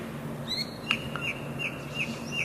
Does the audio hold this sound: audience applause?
no